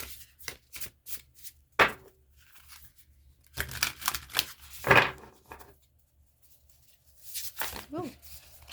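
Secret Force Oracle cards shuffled by hand during a tarot reading, several short bursts of riffling and slapping with quiet gaps between them and a voice speaking softly in places.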